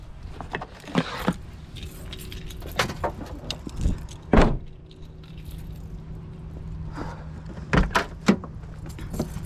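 Keys jangle in a few brief metallic bursts before a radio-controlled speed run with an Arrma Limitless car on 6S power, with quieter handling noises in between.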